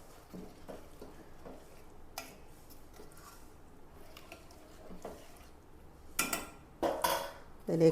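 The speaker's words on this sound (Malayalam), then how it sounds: "ഗ്രേവിയൊക്കെ നന്നായിട്ട് തിളച്ചിട്ടുണ്ട്. ഇതിലേക്ക് നമുക്ക് ബീഫ് അങ്ങോട്ട് ഇട്ട് കൊടുക്കാം." Beef dropped into boiling curry gravy in a pot, with metal clattering and scraping as it is stirred, a few soft clinks early on and louder, busier stirring clatter toward the end, close by and without talk.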